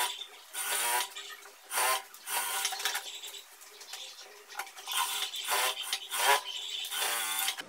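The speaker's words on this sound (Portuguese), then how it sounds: "agora overlockando aqui e aqui embaixo pra fazer a bainha" An overlock sewing machine hemming a blouse, running in short bursts of fast whirring stitching separated by brief pauses, close and fairly quiet.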